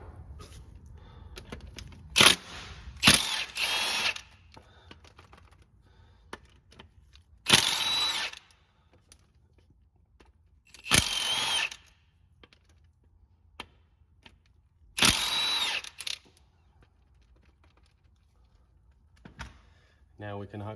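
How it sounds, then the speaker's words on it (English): Power tool undoing four M10 bolts on a 1.6 TDI engine, heard as about four separate loud mechanical bursts of a second or so each, spaced by quiet pauses, with faint workshop handling noise between them. "we're going to undo the 4 M10 bolts along here."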